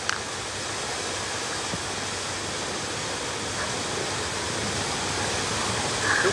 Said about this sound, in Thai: ทุกคนเขาเปิดน้ำตกแล้วครับ